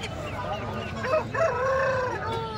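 A country-chicken rooster crows with a long rising-and-falling call at a poultry market, set against a busy background of other birds and murmuring voices.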